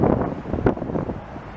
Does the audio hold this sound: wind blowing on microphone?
yes